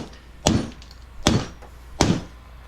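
Three sharp, evenly spaced metallic whacks of a hammer striking a bent oil pan to flatten it, close and loud with short ringing decays.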